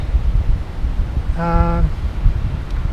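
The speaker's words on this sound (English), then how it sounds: "it's really windy" Wind gusts steadily and rumbles against the microphone throughout on a cold backpacking trail on the Rae Lakes Loop, with a brief tonal voice-like sound in the middle.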